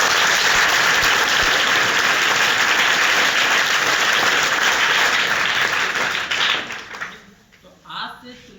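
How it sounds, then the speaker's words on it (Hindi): An audience at a school gathering breaks into loud, sustained applause for the teachers, dense clapping that carries on for about seven seconds before fading out, followed by a speaking voice. "तो एक बार टीचर्स के लिए अच्छे से जोरदार वाला ताली बजाओ"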